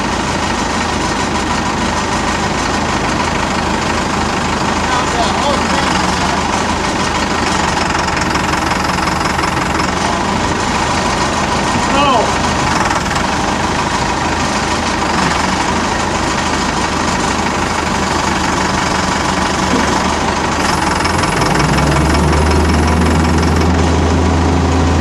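Forklift engine idling steadily throughout while a log crate is unloaded, a continuous low rumble with a knocking texture, close and loud, with a deeper low hum setting in near the end.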